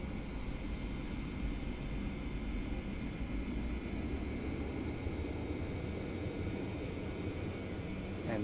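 A Boeing 717's jet engines drone as a steady, even roar of broadband rumble and hiss during a takeoff roll in a flight simulator game, holding constant throughout with a faint rising whine near the end.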